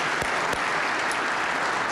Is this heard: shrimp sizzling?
no